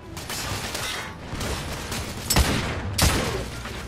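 Gunfire in The Order: 1886 video game rings out as a loud, steady rattle of shots with two sharp, heavy blasts standing out near the end, and no talking.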